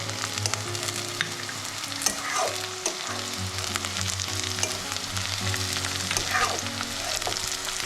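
Green chilli and chopped garlic fry with onions in a pan, a steady sizzle with occasional stirring scrapes and a low hum throughout, close and continuous.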